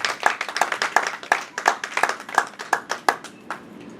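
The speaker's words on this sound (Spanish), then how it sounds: "Dale un fuerte aplauso al Señor en esta noche y glorifique su nombre" A congregation at an evening Spanish-language church service claps in a steady, fairly even rhythm of sharp hand claps. The clapping is moderately loud with a slight room echo and fades toward the end.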